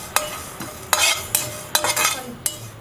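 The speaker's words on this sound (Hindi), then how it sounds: "अब डालेंगे इसमें ये मेथी दाने और ये जो कलौंजी है वो भी डाल देंगे। तो इसे हम आधा मिनट से थोड़ा सा कम ही भूनेंगे।" Fenugreek and nigella seeds roast in a little oil for a chilli pickle, producing a faint sizzle broken by sharp, spaced clinks and scrapes of a spoon against the pan.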